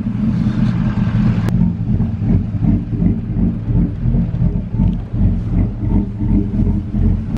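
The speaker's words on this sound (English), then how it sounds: "Damn, this truck sounds good. Old Duramax getting packed down." An old Duramax diesel pickup truck idles steadily nearby, its deep, continuous rumble holding even for the whole stretch with a brief click early on.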